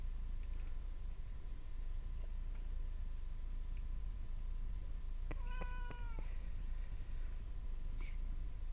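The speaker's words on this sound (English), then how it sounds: "Kitty." A cat meows in a short series of calls, fairly close and clear, with faint ticks and keyboard-like tapping over a steady low background hum.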